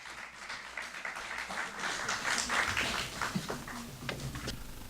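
Applause for Manak ji at an International Mother Tongue Day gathering at Doaba College, a steady crowd clapping that swells slightly midway and carries on throughout, with faint voices mixed in underneath.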